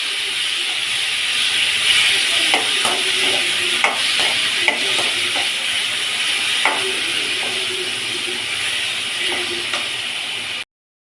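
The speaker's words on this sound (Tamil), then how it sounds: "வெங்காயம் பூண்டுலாம் வந்து நல்லா வதக்கணும் தக்காளி வந்து நல்லா வதக்கணும்" Onion, garlic and tomato sauté in a pan, giving a steady broadband hiss and sizzle that runs evenly throughout, broken by a few faint clinks and scrapes, before cutting off abruptly at the end.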